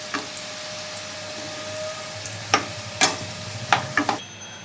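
Potatoes fry in oil in a wok with a constant sizzle, and several sharp bursts from turning them stand out near the end.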